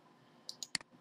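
Computer mouse clicks, several sharp, quiet taps in quick succession, close by in a quiet room.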